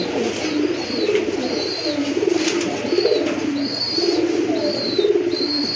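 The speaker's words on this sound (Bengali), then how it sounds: "এটা হচ্ছে আপনার রেড চেক কালার ভিতরে একটা নট খুবই ডাকে অলওয়েজ ডাকতেই থাকে" A red check pigeon coos repeatedly in a steady, rhythmic series of close, moderately loud calls, over faint background chirps.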